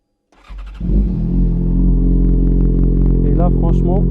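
A Yamaha XJ6 motorcycle fitted with a Leovince GT exhaust cranks and starts, then settles into a loud, close, steady idle. A voice talks briefly over it near the end.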